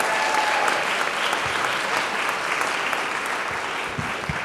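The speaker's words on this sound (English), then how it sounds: "So how about a round of applause for your parents and families?" Sustained applause from an audience of parents, families, teachers and staff at a high school awards night fills the room, steady and dense throughout with a few sharper claps near the end.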